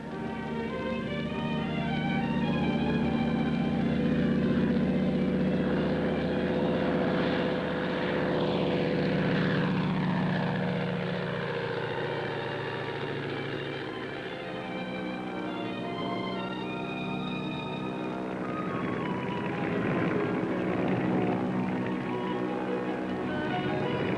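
A propeller airplane flown by Cliff Winters drones steadily in flight, heard close from the tail, a loud buzzing hum whose pitch bends and sweeps as the engine note shifts, continuous and without voices.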